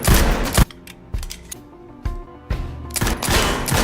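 Gunfire during shooting practice in a film scene, several sharp loud shots at irregular intervals, each with a reverberant tail between them, no talking.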